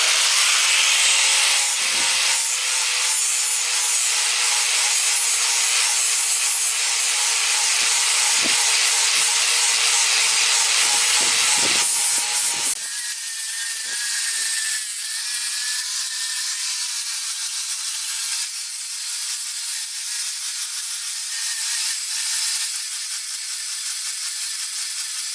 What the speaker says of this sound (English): pretty much all you're going to do is polish it, grind it down